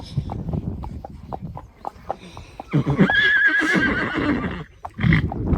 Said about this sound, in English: there's quite a few horses that are calling back to him.